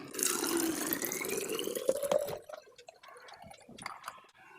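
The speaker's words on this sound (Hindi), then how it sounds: "जब हम उस बोतल में पानी पोर करते हैं" Water is poured into a bottle, a close gurgling stream whose pitch climbs as the bottle fills, then stops and leaves scattered drips and small splashes.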